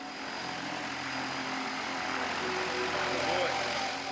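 A propeller plane landing at a remote airstrip in Papua gives a steady, droning engine roar that holds for several seconds.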